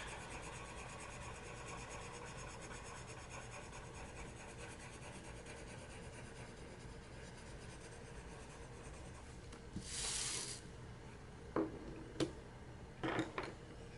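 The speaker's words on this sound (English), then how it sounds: "I'm going to come back here with my white Prismacolor, and I am just going to burnish all of this out." A white Prismacolor colored pencil burnishes a drawing in steady, close scratchy strokes on paper, with a few brief sharper scrapes and taps near the end.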